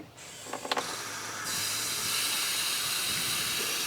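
Water rushing under pressure through an RV's plumbing once the system is turned on, starting with a few short clunks and sputters, then settling into a steady, close, hissing flow.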